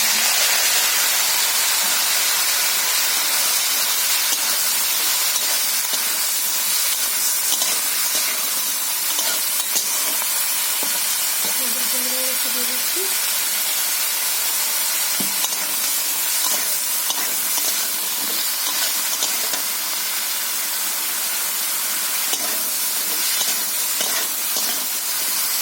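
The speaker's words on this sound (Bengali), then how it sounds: "আলু আর বেগুন একসঙ্গে আমি ভেজে দিচ্ছি।" Potatoes and eggplant fry together in hot oil in a wok, giving a steady, close, broadband sizzle and hiss that runs unbroken for the whole stretch, with no voices.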